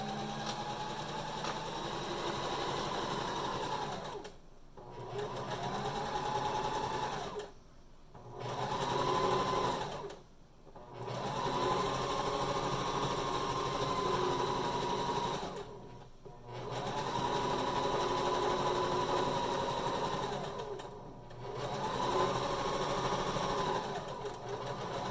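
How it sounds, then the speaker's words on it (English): A sewing machine runs a zigzag stitch on a cover mask in a fast, steady, humming whir. It stitches in runs of a few seconds, with about five short pauses between them, close and moderately loud, with no talking. "I'm just going to start zigzag stitching."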